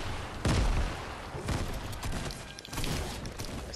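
Shotgun blasts in the video game Fortnite, several sharp loud booms at irregular intervals, each with a quick decaying tail over low game noise.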